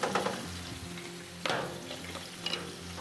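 Aubergine slices fry in a pan, giving a steady close sizzle with a low bubbling rumble. A few brief louder crackles and stirring sounds rise above it, and no one speaks.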